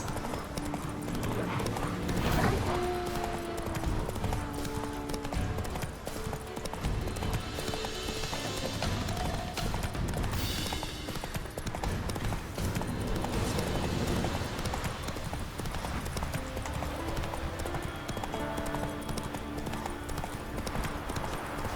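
Roach, the horse in The Witcher 3, gallops with steady, continuous clip-clop hoofbeats over a dense bed of game music and ambience, with a brief snort or whinny amid the loud, unbroken stride.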